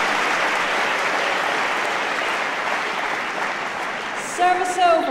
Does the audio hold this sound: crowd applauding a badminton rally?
yes